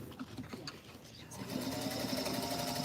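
A sewing machine doing free-motion quilting with a ruler guiding the fabric, its needle whirring in a fast, steady, close chatter that grows louder halfway through while people talk over it.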